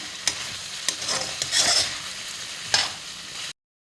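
Green chillies, onion, potato, tomato, coriander and curry leaves sauté in oil for sabudana upma, a close bright sizzle with a few quick spoon scrapes, loudest near the middle before it cuts off abruptly.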